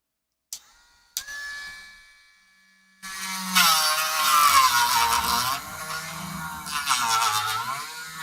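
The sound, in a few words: rotary tool grinding with diamond tip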